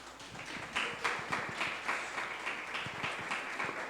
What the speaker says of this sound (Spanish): No me merezco aplausos, tranquilo